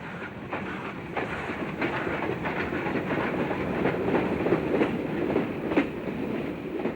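A train of ugly homemade carriages runs on a West Java railway line toward Rangkas Bitung, giving a steady rolling rumble with regular clickety-clack wheel beats at moderate distance and no voices.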